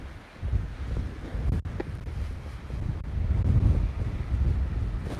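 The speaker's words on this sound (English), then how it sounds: "It's very, very windy here." Wind buffets the microphone in low, rumbling gusts that swell and dip throughout, with a couple of brief dropouts; no one speaks.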